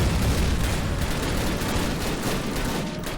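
Dense, continuous rumble of gunfire and blasts in a Call of Duty game, rapid overlapping bursts at a steady level that fades slightly toward the end, with no talk.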